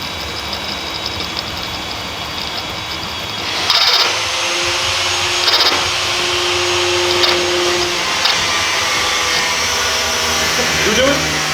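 A borrowed power drill whirs steadily and loudly throughout, with brief pitch shifts and a few sharp clicks as it is worked on a Mazda RX7.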